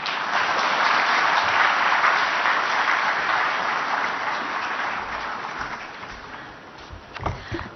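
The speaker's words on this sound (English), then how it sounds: "once again, a huge round of applause for everyone on the dais." Audience applauding at the opening ceremony of the 25th ICID Congress plenary at Hotel Radisson, Rushikonda; a dense, steady wash of clapping from a large hall crowd, holding loud and gradually tapering off.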